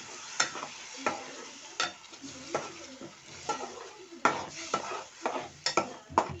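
Tomato puree frying in a pan for bendakaya pulusu, a steady close sizzle broken by repeated scraping strokes and clinks of a spoon stirring against the metal pan, with no talk.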